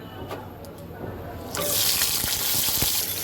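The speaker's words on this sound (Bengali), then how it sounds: "সব মশলাগুলোকে আমি একসাথে সুন্দর করে ভেজে নেব" Spices hit hot oil in a wok (kadai) and start a loud, broad sizzle partway through, after a quieter stretch of small clinks and handling noise; no speech.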